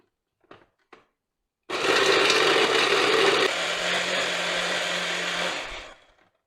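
A couple of faint taps, then a blender roars to life blitzing sauce ingredients with salt, whirring loudly and steadily for several seconds before spinning down.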